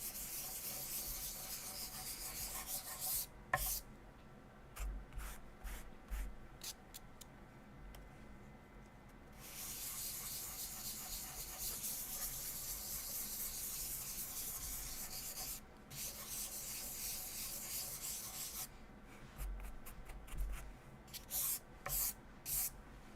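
Sandpaper rubbed by hand across a sprayed finish to smooth orange peel, making long steady scratchy strokes broken by short pauses, fairly quiet and close with no talk.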